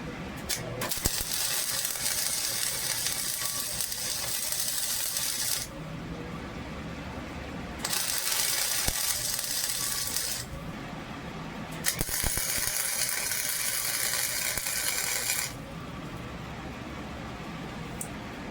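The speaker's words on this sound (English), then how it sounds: "Nice little tack weld for now." A forge press die gets tacked with a welder, giving several bursts of harsh crackling buzz, each a few seconds long with short gaps between them, close up and fairly loud over a background hum.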